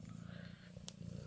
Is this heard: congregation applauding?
no